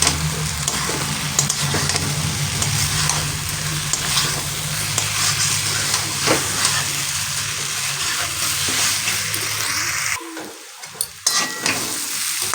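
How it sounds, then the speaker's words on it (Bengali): Diced potatoes fry with cumin, coriander and green chilies in a hot pan, a continuous close sizzle broken by scraping stirs; near the end the heat drops and a few sharp clinks of the spatula ring out. "এবারে আমি মশলাটা দিয়ে কষিয়ে নেব"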